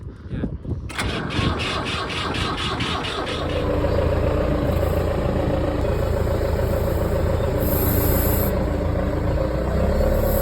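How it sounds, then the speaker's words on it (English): An old turf harvester engine on a family turf farm, running after a jump start from a tow behind a John Deere, chugs steadily and loudly. It settles into a continuous close idle after a rougher start, with no talk over it. "Managed to get the old harvester going. We had to drag it behind the John Deere and jump start it."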